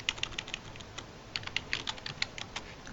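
A URL being typed on a computer keyboard, irregular quiet key clicks in quick bursts with short pauses between, close and without talk.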